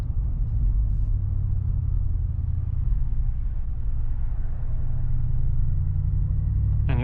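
Mercedes-AMG G63 V8 driving along with a steady, deep low rumble that holds loud and even throughout, swelling slightly toward the end.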